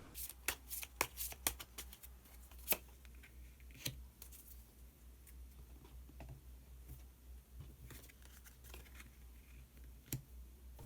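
Tarot cards being shuffled and drawn by hand: a quiet, close run of flicking, riffling card snaps and soft ticks, clustered at first and then scattered, with no talk.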